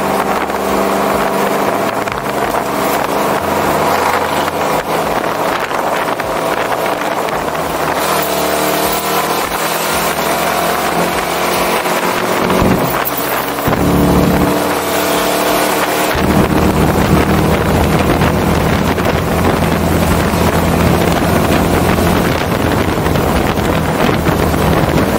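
A motor-swapped Ford Mustang GT engine roars on a street race, loud sustained revving with rising and falling pitch, shifts around the middle, heavy wind buffeting over the microphone throughout.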